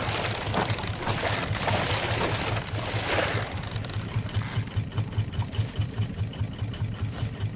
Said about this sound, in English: Trying to tune me bloody engine.